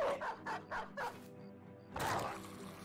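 A dog in the Battle Brothers video game barks in a quick run of four or five yapping bursts, followed by a louder growling snarl, with no talk over it.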